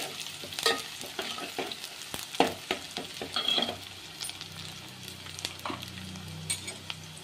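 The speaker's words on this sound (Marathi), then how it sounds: "त्याला चांगलं तळू द्यायचा कांदा" Chopped onion frying in a pan for a spiced rohu fish curry gives a steady close sizzle, broken by the scrape and clink of a stirring spoon, with no talking.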